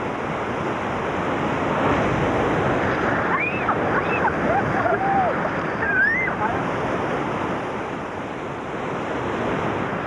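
Rushing white water of a river rapid during a rafting trip in Ethiopia, a steady loud roar and surf-like wash filling the whole stretch, with faint distant shouts rising briefly in the middle.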